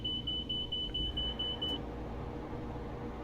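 In the cab of a Class 92 electric locomotive in Train Simulator Classic, the speed-set alarm gives a steady high-pitched beep for about two seconds over the constant low rumble of the running train, then cuts off.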